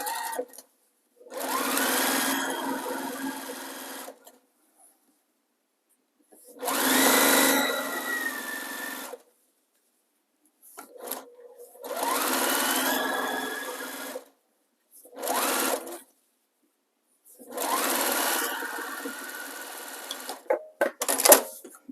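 Sewing machine stitching a quilted flower-pattern sewing machine cover, five separate bursts of fast whirring stitching broken by short silences, close and fairly loud.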